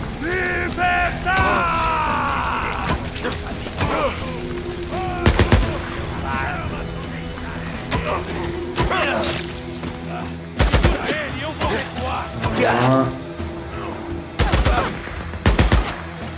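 Gunfire in the video game Days Gone during an ambush at a trailer park: scattered loud shots and short bursts crack over mechanical clatter and game sounds, with tonal effects and a voice speaking at times.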